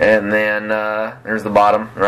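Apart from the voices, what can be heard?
No distinct noise like a dog, phone or traffic.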